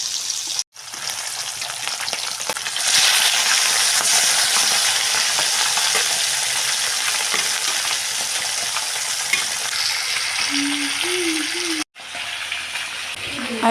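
Pieces of rohu fish fry in hot oil in a pan with a loud, steady sizzle that swells and holds, broken by a couple of brief pauses as the pieces are moved around.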